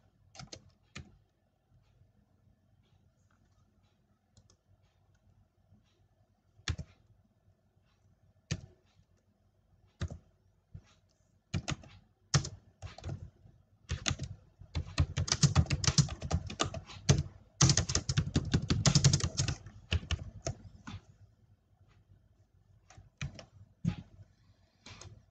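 Typing on a computer keyboard to add text in Photoshop, scattered single key clicks at first, building into a fast dense run of close taps before slowing to sparse presses.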